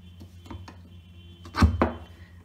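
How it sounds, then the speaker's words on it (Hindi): A knife cuts through raw mango for pickle, giving a few faint taps and then two louder, close chopping strikes near the end, with no voices. "आप भी इसी तरह से आम काटें और फिर इसकी गुठली निकाल लें।"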